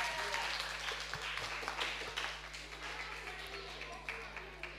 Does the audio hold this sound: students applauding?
yes